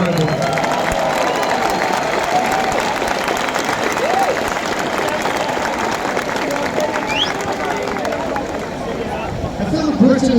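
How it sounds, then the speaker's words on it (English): A large outdoor rally crowd keeps up a continuous roar of clapping and scattered cheers, with a steady crowd murmur mixed into the applause throughout. "Give yourselves a round of applause"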